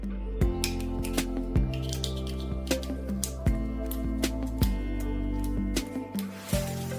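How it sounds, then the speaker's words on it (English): Scissors cut a plastic ping pong ball into small pieces, giving a series of sharp snips and crunchy clicks at irregular intervals, close and fairly quiet, with no talk. "we will take the ball and use scissors to cut it into small pieces."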